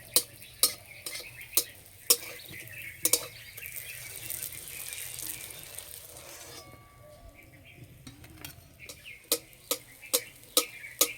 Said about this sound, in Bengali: এইভাবে একটু ভাজলে ভেতর পর্যন্ত খুব সুন্দর ভাজা হবে।